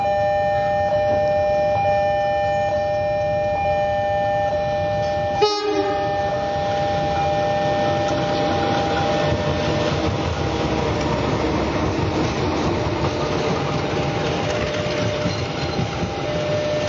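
The Dharma Wangsa passenger train rumbles steadily past a level crossing in Indonesia with a constant broadband roar, horn tones sounding through it and a sharp clank midway.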